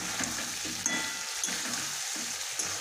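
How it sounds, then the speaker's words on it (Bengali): Chicken frying and being stirred in a pan: a soft continuous sizzle with a few light spoon scrapes, close and quiet, with no voices. "আমার চিকেনটা কষানো হয়ে গেছে"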